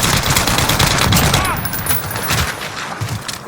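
Suppressed automatic gunfire in Call of Duty: Modern Warfare, rapid continuous bursts of muffled shots with a crackling wash, loud throughout.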